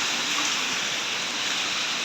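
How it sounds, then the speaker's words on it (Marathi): Rain falls steadily outside a hotel at night with a constant wash of hiss and no breaks. A faint low hum sits underneath the downpour. "सगळीकडं पाऊस पाऊस जलमय झाला"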